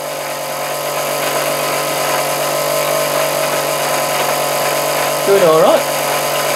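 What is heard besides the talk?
Meccano electric motor running at speed, driving belts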